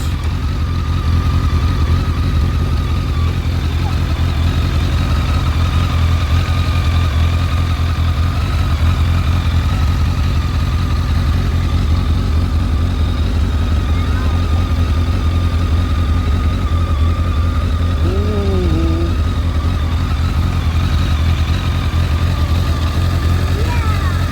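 An idling engine that is charging nicely, a loud steady low rumble running unbroken throughout, close to the microphone, with faint background sounds over it.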